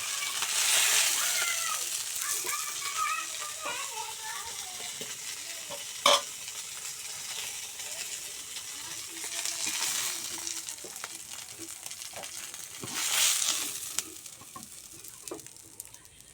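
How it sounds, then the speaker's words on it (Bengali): Silver carp pieces fry and sizzle in a pan with stirring, a crackling hiss rising and falling with occasional scraping knocks, close and moderately loud, no talk. "এই যে লাল লাল করে মাছ ভাজি করে নিয়েছি।"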